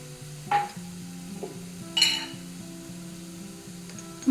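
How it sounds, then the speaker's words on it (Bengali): Chopped onions fry softly in a pan while a utensil stirs them in a few brief scraping bursts. Quiet tonal music sits in the background. "ভালো মতো এখানে নেড়ে চেড়ে নিতে হবে।"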